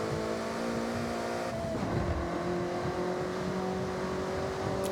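A Toyota AE86 modelled on the Initial D car drives in Forza Horizon 6, its engine droning steadily and loud with a pitch shift partway through, as if shifting or easing off, alone with no talk.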